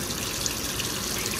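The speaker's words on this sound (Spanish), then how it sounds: "Le voy a poner hasta aquí de agua." Water runs steadily from a tap into a pot, a continuous close splashing gush filling it to cook beef for birria.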